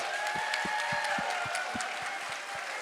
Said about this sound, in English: let's give her just an amazing round of applause